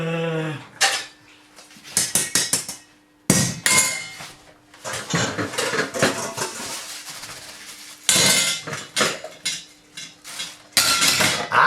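Dishes and kitchen utensils clatter in repeated bursts, plates and cutlery clanking and knocking close by with short pauses between loud rummaging handfuls.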